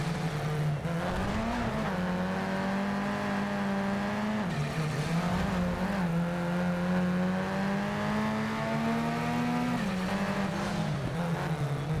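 Race car engine in Need for Speed Shift 2, revving hard and alone, with a loud sustained drone that climbs through the gears, dips at each shift near the one-, five- and ten-second marks, then climbs again.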